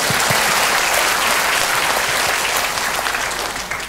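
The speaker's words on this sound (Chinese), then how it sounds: "给你掌声这位朋友" Sustained, dense audience applause fills a talk-show or lecture hall, loud and steady throughout before tapering slightly at the end, with no voices over it.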